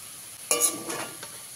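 Fried potato pieces are lifted out of hot oil: a quick metallic scrape and clink over a soft sizzle that fades within a second or two.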